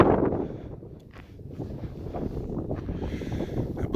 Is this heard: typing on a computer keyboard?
no